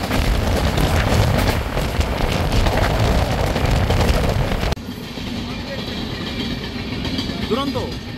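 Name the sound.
Dhauli Superfast Express train running from Puri to Shalimar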